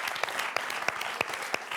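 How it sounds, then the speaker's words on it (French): Studio audience applauds a contestant on a French television quiz show; brisk, steady clapping of moderate loudness, with a few sharper individual claps standing out. "Est-ce qu'on pourrait applaudir Antoine qui a été super galant"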